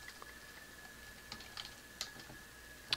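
Faint, sparse keystrokes tap on a computer keyboard, with a few isolated clicks over a quiet room hum.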